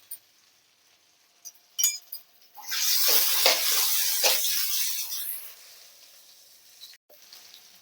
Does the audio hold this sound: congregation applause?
no